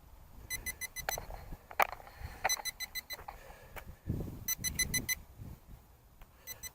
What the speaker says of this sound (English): Let's shut this thing off so we don't quit getting that beeping noise